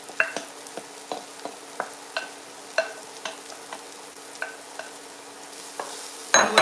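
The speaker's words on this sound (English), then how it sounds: "And we're going to saute that up." Saltfish with cold-pressed organic turmeric being sautéed in a pan, with a soft steady sizzle under a series of sharp, evenly spaced scrapes and taps from a stirring utensil. It ends in a brief louder rattle.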